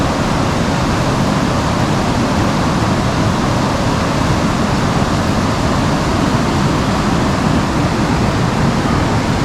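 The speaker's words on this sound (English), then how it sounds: "Beautiful moving waterfalls." Flowing waterfall along the road to Manitoulin Island in Canada, a constant loud broadband roar of falling water with no variation and no voices.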